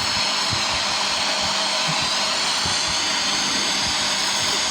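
A Samsung Ecobubble washing machine on its spin cycle gives a steady, loud, broadband whirring rush with a constant high whine and low rumbling thumps underneath. No one speaks.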